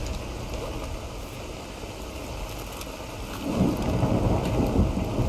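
Rain falls steadily in a thunderstorm in the video game Stalker Anomaly, and a deep roll of thunder swells up partway through and rumbles on to the end.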